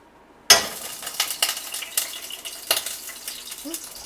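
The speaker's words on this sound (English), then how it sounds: "Wow, you see that sizzle right there?" Butter hits a hot frying pan with olive oil and bursts into a loud sizzle, crackling and popping steadily up close after a sudden start.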